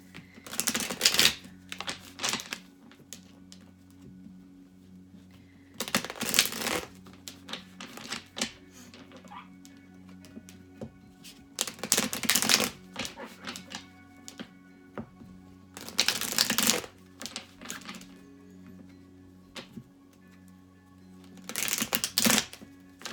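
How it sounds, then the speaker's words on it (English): Five short bursts of tarot cards being shuffled, each a quick flurry of crisp riffling separated by a few seconds of quiet with a low background hum. "I'm going to do a couple quick shuffles for Virgo."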